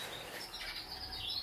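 Small captive-bred birds chirping at a breeding setup, a faint, soft stream of high tweets and calls running steadily throughout, with no talk.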